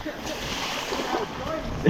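On a rainy motorcycle ride in Prince George, the tire throws a roost of water, a close, continuous splashing hiss under engine and wind noise, with people talking over it.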